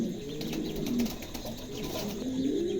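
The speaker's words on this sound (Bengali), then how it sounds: "চমৎকার একজোড়া কবুতর, কারো ভালো লাগলে নিতে পারেন।" Low, rolling coos from a pair of house pigeons kept in a cage, repeating in soft, steady bursts close by with faint rustling between calls.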